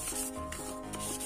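A motorcycle helmet being sanded by hand with sandpaper to smooth out bumps before repainting, a steady close rasping rub in quick back-and-forth strokes, with no talking.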